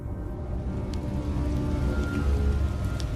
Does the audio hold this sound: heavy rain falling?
yes